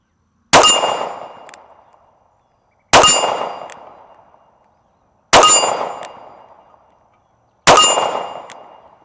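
Four sharp pistol shots from a Ruger LCP firing target-grade ammunition at about 955 feet per second, evenly spaced roughly two seconds apart, each a loud crack with a short ringing decay, alone on an outdoor range.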